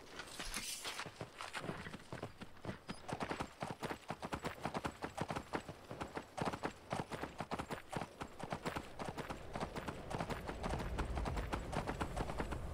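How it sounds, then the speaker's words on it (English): Steady, rhythmic hoofbeats of a horse clip-clopping in the video game Skyrim VR, continuous close footfalls for the whole stretch, fairly quiet overall. "Horse."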